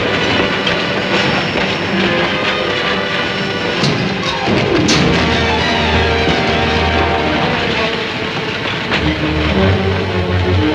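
A train rumbles along the rails with steady clickety-clack and occasional thumps, loud and continuous throughout.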